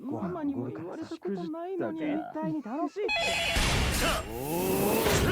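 Telephone ringing in a Yakuza (RGG) video game, a dense bright ring filling the second half after a stretch of Japanese speech, loud and continuous with voices still audible over it.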